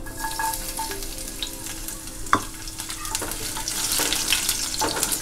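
Garlic drops into hot oil and fries with a continuous close sizzle, broken by a few sharp clicks of a spoon stirring in the pan, with the hiss swelling toward the end.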